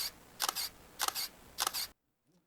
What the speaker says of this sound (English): Now let's talk about shutter sound. It's pretty similar to the E300, but it's a tiny bit faster, and therefore it's worth a listen.